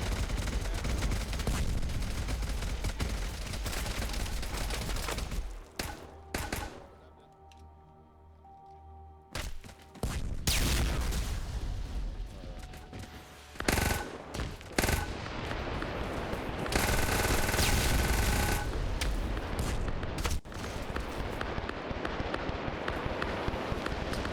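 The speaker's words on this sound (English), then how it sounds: "Heavy fire." Video game gunfire in a Mass Effect combat mission: sustained loud bursts of automatic fire and rapid shots, with brief pauses and a quieter stretch partway through before the heavy firing resumes.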